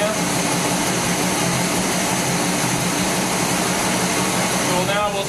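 A car engine with a recurved GM distributor set to 16 degrees initial timing idles at 675 RPM, a loud, continuous broadband roar that holds steady throughout.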